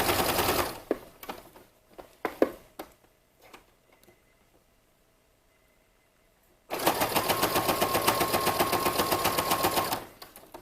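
A sewing machine stitches a waistband on a vintage jumper, first in short bursts, then in one fast, loud, continuous run of rapid needle clatter lasting several seconds.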